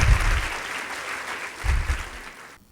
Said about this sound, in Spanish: Miren cómo lo aplaude la gente a ustedes